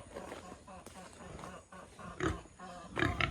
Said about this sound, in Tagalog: Yung meron ako ngayon ay itong aking mga inahing baboy.